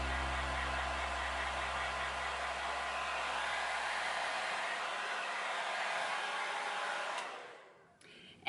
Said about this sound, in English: So I just kind of hit those areas with the blow dryer.